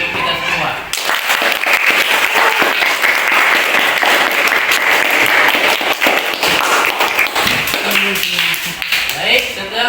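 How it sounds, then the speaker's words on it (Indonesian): Applause from a classroom of students after group presentations, loud and dense for most of the stretch, thinning near the end as a voice comes in. "mari sama-sama kita tepuk tangan untuk kita semua"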